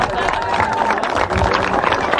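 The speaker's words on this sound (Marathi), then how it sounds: "जोरदार टाळ्या झाल्या पाहिजेत" Crowd applause and cheering at a prize ceremony for a cricket tournament final, steady and dense throughout with no pauses, a mix of many clapping hands and voices.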